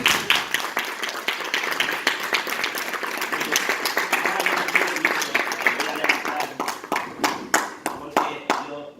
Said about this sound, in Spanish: si me lo permite, dedicarle un aplauso